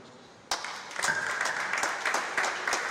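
Audience applause at a pest control association panel session starts suddenly and continues as steady, fairly loud clapping from many hands in a hall.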